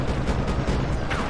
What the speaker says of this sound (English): Hi there, gunshots.